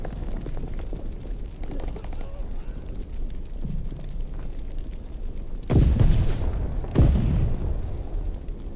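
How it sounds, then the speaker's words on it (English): Two heavy booms from stun grenade blasts in Call of Duty WWII team deathmatch on Sainte-Marie-du-Mont, loud and close, a second apart, rising out of a steady low rumble of battlefield noise. "Throwing stun grenade!"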